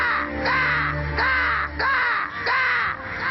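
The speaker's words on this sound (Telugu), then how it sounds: "ఇటు చూడు, బోల్డ్ అన్ని కాకులు వచ్చేసాయి." A group of crows cawing in a steady series of four or five loud, harsh calls at regular intervals, close and clear over a low background hum.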